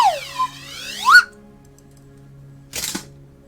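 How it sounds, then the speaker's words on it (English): A whistle is blown during a Magic: The Gathering game stream. Two sharp sliding whistle tones rise and fall over a low hum, and a short noisy burst follows. No voices are heard. "he's about to get the whistle"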